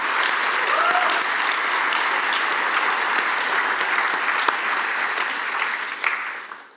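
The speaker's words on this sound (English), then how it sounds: "Can you please give one more round of applause for our students" Sustained round of applause from an audience at a city council event honoring students, steady dense clapping that carries on for several seconds before tapering off at the end.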